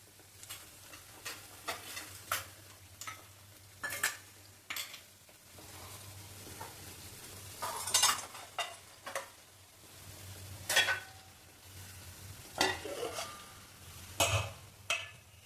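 A spoon stirs dum aloo curry in a pan, giving intermittent scraping and clinking strokes at an irregular pace over a faint low hum and soft sizzle.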